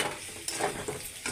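Potato pieces fry with turmeric in a wok, producing a continuous close hiss and sizzle with a few soft scraping stirs and no voices.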